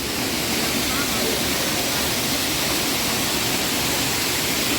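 Manchewe waterfall in Malawi, a combined drop of about 125 meters, roars as a loud, steady broadband rush of falling water with no break, close and continuous throughout.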